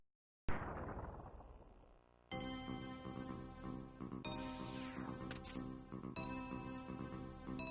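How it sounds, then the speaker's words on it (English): Game explosions in Mega Man X2 burst out loud and sudden, the first decaying into a brief hush before a second blast gives way to ringing, sweeping effects over steady music. "Just gotta wait for the explosion animation every time"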